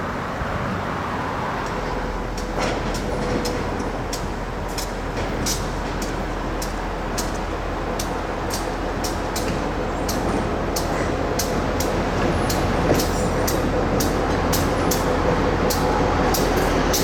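A freight train on the Housatonic Railroad rumbles steadily along the tracks downhill with a deep drone and a regular series of sharp wheel clicks, continuous and fairly loud.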